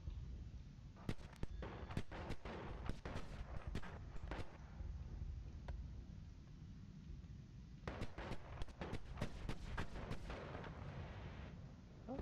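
Continuous shooting in the video game Noita: rapid clusters of sharp cracking shots in two long flurries with a quieter stretch between, loud and close, with no talking.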